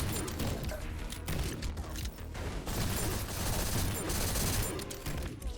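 Sustained SMG gunfire in the fast-paced shooter GTTOD, dense rapid shots firing loud and nearly continuously over pounding game music.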